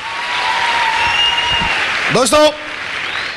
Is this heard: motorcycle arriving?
no